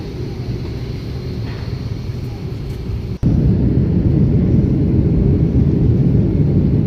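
Airliner beginning to roll for a flight to Bangalore, heard from inside the cabin as a steady, loud broadband engine rumble that jumps abruptly louder partway through and holds.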